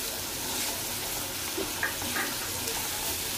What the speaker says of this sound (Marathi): फक्त फ्राय करत राहायचं तेलामध्ये